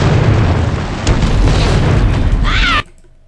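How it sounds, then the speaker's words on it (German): TNT dynamite blowing up in The Suffering, a loud, close, rumbling boom with sustained debris roar that cuts off abruptly into near silence. "TNT Dynamite."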